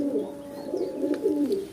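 Racing pigeons coo softly in a loft in Odisha, a low, rolling, continuous cooing heard close and fairly quiet, with a faint chirp or two.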